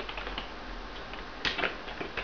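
Someone types a command on a computer keyboard at a terminal, with soft, quick key clicks in a short uneven run, close but faint over a steady background hiss.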